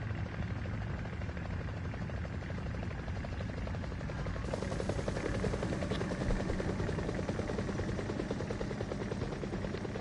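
Helicopter in the video game War Thunder, a loud continuous rotor thrum and engine drone that holds steady throughout and grows slightly stronger midway.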